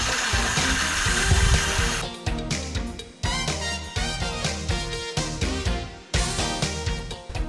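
A power tool fastens horizontal greenhouse braces to the arches with bolts and nuts, whirring loudly up close in repeated short bursts with rhythmic pulsing, over a noisy outdoor background and with no talking.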